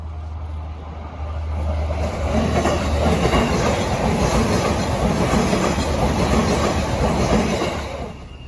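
A train passes close by on the rail line during a walk in Japan, a loud sustained rumble with rhythmic clickety-clack of wheels swelling and holding before easing off, no voices.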